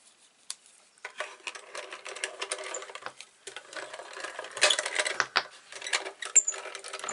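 A small paper-crafting die-cut machine feeds a card through, giving close mechanical clicking and ratcheting with a grinding whir that builds toward the end. No one speaks.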